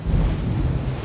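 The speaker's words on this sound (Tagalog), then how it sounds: "Ganyan ang tunog ng mga alon" Ocean waves wash continuously in an audio drama, a dense, steady roar of surf with a windy rush and no distinct breaks, loud and close throughout.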